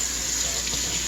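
Lukewarm water runs steadily from a sink tap, a continuous close hiss of flowing water for the whole short stretch with no talk over it.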